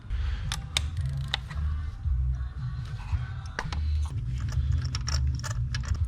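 Ratchet fitted with a 5/8 spark plug socket working on a 2019 Hyundai Santa Fe, with quick clicking bursts and sharp metallic ticks over a low rumble, near and moderately loud.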